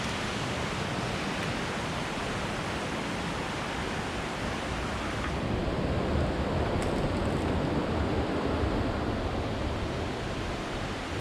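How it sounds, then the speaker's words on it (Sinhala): Brahmanella waterfall in Sri Lanka's Sinharaja rain forest pours down in a constant broadband roar of rushing water, close and steady for the whole stretch with no voices. "මේක තමයි පළවෙනි දිය ඇල්ල"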